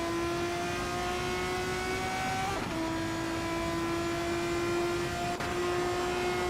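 Engine tone of 2019 Dallara F312 race cars held at a steady, loud pitch throughout, with a brief dip and shift partway as the cars run in close formation during a race.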